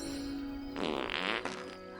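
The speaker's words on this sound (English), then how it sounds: "Losers get 3 farts in the face, apparently." A cartoonish fart plays in the video game Fable Anniversary, one long buzzy, rippling blast lasting under a second over steady game background sound.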